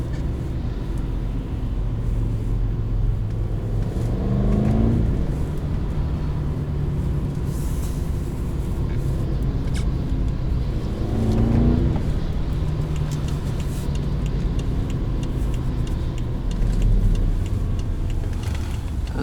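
A 2011 BMW 550xi drives steadily on snow with a continuous engine hum and road rumble, the engine note rising and falling as it speeds up at intervals.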